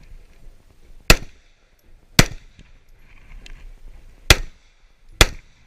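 Four sharp pistol shots ring out at an IDPA shooting match at Mecklenburg Wildlife Club, spaced unevenly about a second or two apart, loud and close with brief echoes between them.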